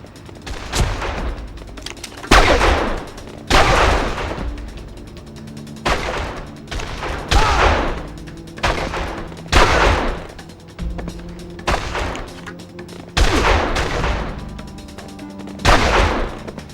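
Sniper gunfire in Made Man on the PS2, a steady series of loud, sharp shots about once a second with booming tails and a mechanical clatter underneath.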